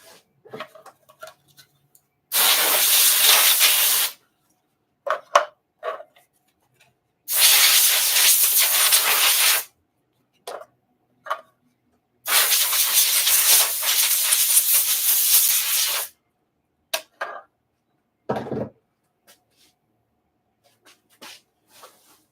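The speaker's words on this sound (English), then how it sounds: "In fact, I might even turn on the compressor." An air compressor's air hisses out in three long, loud bursts lasting a few seconds each. Quiet gaps with small knocks and clicks separate the bursts.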